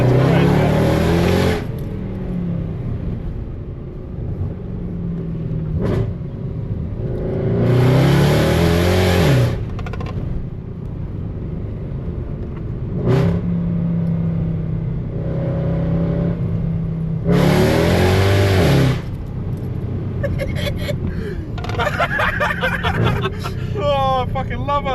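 Loud V8 exhaust from a Mercedes C63 AMG W204 cruising with a Jaguar XFR and a V8 Audi S4, with three sharp roaring bursts over a steady engine drone. People talk excitedly throughout.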